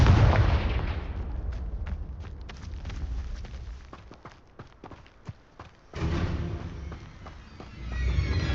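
Fiery blasting-spell explosions from the Hogwarts Legacy video game, a burst of loud booms at the start then a rapid series of sharp cracks and impacts, with another heavy rumbling blast swelling near the end.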